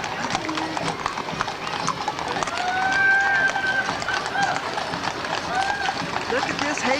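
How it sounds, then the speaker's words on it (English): Horses pulling a hay wagon clip-clop steadily along at close range, hooves beating in a brisk rhythm with faint vehicle sounds and voices in the background. "Look at this hay wagon and them horses."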